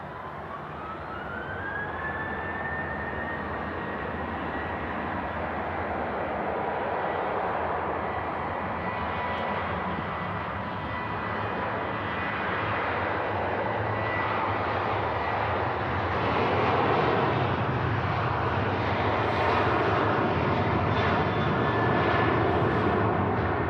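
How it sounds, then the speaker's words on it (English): A jet airliner takes off at Manchester Airport, a loud steady engine roar with a rising whine that builds and swells as it climbs away, heard alone without talk. "as the planes go over this morning"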